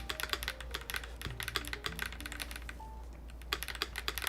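Quick keystrokes on a freshly built mechanical keyboard with an SA keycap set, a steady run of crisp clacks that pauses briefly midway and then resumes, close up and clear with no talking.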